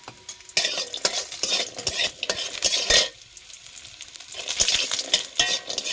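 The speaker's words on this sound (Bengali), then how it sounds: "কড়াই তেল গরম হয়ে গেছে, আমি এখন একটু বড়িগুলো ভেজে নেব।" Lentil dumplings (bori) frying in hot oil in a wok, a steady close sizzle broken by repeated sharp scrapes and clinks of a spatula stirring against the metal.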